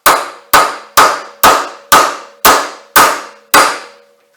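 Eight evenly spaced metallic clangs of a hammer striking a socket, driving a sleeve into a recess during an XR100 motorcycle front end and rear lift link install; each sharp hit rings briefly and decays, close and loud.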